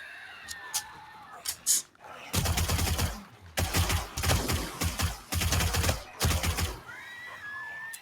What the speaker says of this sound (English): Let me just shoot some in a barrel here